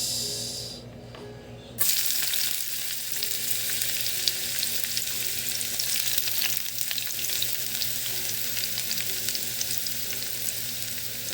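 Garlic frying in a hot pan, a loud, continuous close sizzle that swells suddenly after a brief quieter start and holds steady with no talk.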